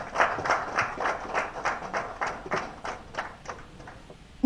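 An audience in Ọṣun State claps for the Inspector General of Police, a soft, uneven run of separate claps rising and falling at moderate distance, fading toward the end before a sharp noise cuts in.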